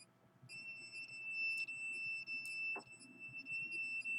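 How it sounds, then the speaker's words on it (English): Electronic alarm altered by a magnet, a thin steady high-pitched tone with pulsing beeps over a low background hum, with one brief louder blip partway through. "You hear the difference in the alarm."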